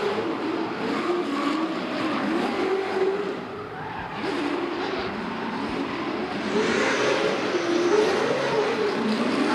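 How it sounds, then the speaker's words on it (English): Nissan S15 Falcon drift car at the Baypark D1NZ Pro Championship qualifying in Tauranga, its engine roaring at full throttle with rising and falling revs, a steady loud blare heard from a distance over trackside noise. "it's Carl Thompson's turn this time in the Falcon S15."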